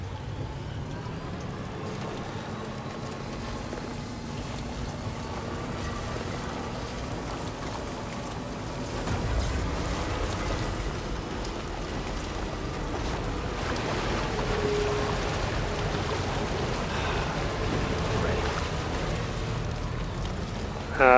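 Steady Timefall rain from Death Stranding 2 hisses continuously over a low drone of eerie music, with the wash swelling slightly partway through and no voices.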